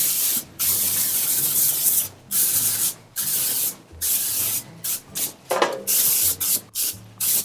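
Pam cooking spray hisses from an aerosol can onto a foil-lined pan in repeated close bursts, each spray broken by short pauses, with no talking.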